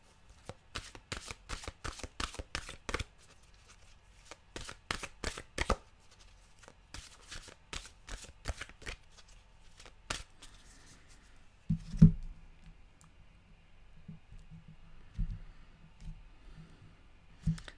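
Tarot cards shuffled by hand in quick bursts of crisp riffling clicks, close and fairly quiet, with pauses between rounds and a faint low hum later on.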